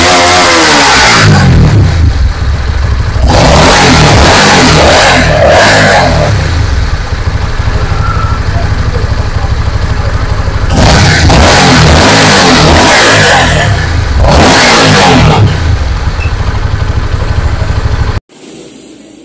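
A motorcycle engine with a replaced fuel pump filter idles loudly close by, revving up in repeated bursts before dropping back, then cutting off near the end.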